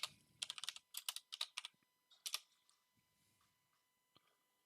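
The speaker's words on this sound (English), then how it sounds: "Typing in so many names here." Bursts of quick clicking keystrokes on a computer keyboard come in rapid clusters, then slow to a few scattered taps, close and fairly quiet with no voices.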